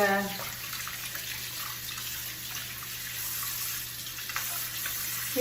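Tap water running into a sink while juicer parts are washed, a steady close hiss of flowing water with faint splashes, continuous throughout.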